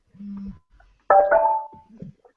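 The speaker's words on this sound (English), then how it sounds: "Jules, sound the chime" A short podcast soundboard chime rings out as a bright, ringing tone after a quieter lead-in, with faint voices around it.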